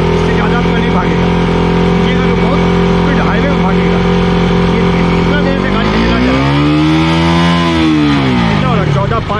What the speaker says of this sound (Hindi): ये गाड़ी का आवाज़ सुनिए कितना बड़ा